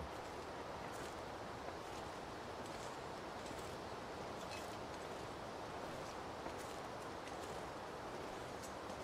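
Steady headwind in the survival game Interloper Run, a broad, constant whooshing roar with faint gusty rises, heard alone without talk.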